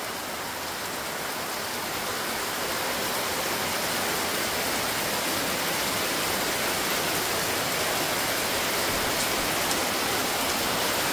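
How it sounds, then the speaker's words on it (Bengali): Heavy monsoon rain pours down steadily in a continuous dense roar of drops, loud and unbroken throughout with no voices. "কেমন মুষলধারায় বর্ষা চলছে দেখো"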